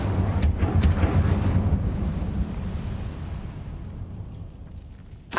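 The Incendio fire spell in Hogwarts Legacy goes off as a loud roaring, rumbling whoosh with a couple of sharp crackles at the start, then fades away over several seconds.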